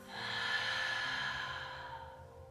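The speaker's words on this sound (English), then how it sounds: "Take three deep inhalations through the nose. And exhale through the mouth." Slow, deep breath during a yoga class relaxation, a long airy inhale through the nose flowing into a relaxed exhale through the mouth, close and clear in a quiet room with no talking.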